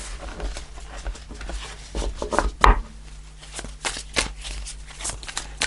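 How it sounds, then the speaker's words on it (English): Tarot cards are shuffled and handled close up, making papery rubbing and rapid soft flutters with a few sharper slaps and one louder knock partway through. "Let's do one more shuffle."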